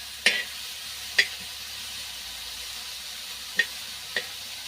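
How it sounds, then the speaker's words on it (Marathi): Chopped onion fries in a pan, browning to a reddish colour, with a soft steady sizzle under four sharp, separate utensil clicks. "कांदा जरा लालसर करून द्यायचा"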